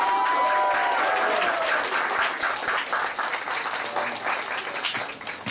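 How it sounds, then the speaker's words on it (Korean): An audience at a traditional Korean music performance of Jindo Arirang claps loudly and steadily, the dense applause gradually thinning and softening over several seconds, with a brief tonal whistle-like sound early on. "대한민국에서 제일 멋진 관객들에게 제가 박수를 보내드립니다."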